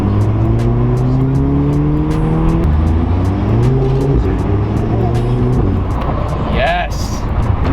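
An APR Stage 2 tuned MK6 VW GTI accelerates hard through the gears, its loud exhaust rising in pitch with each shift, plus a brief squeal or whistle near the end and voices talking over the engine.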